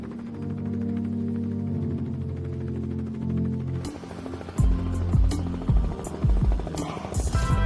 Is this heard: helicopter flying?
yes